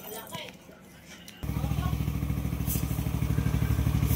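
Yamaha Nmax v1 scooter with a 63mm bore and stage 1 camshaft starting up: a quiet moment with light clatter, then the engine catches abruptly and settles into a steady, loud, close idle.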